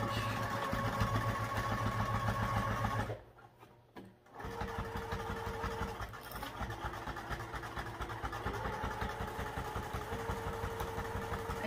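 A sewing machine stitches the seam of a crossbody bag, a steady rapid mechanical chatter that runs close and loud, pauses briefly for a couple of seconds, then resumes at a similar pace to the end.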